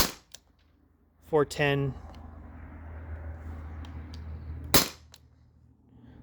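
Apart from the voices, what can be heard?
T4E HDP50 launcher firing on CO2 tank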